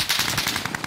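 Rapid automatic gunfire in the video game Call of Duty: Modern Warfare, a loud, close burst of evenly spaced shots.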